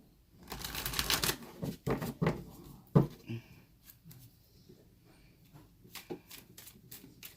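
Tarot cards riffled and shuffled in several quick bursts, crisp fluttering slaps close by, with a sharp snap near the middle and quieter handling afterward.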